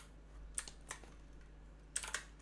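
Keystrokes on a split computer keyboard, a few scattered quiet taps with a short double click near the end, in a quiet room.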